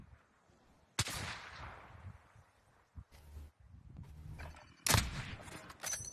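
Gunshots in a video game fired from an AK, sharp loud cracks heard as two distinct blasts with quieter mechanical clatter and movement sounds in between.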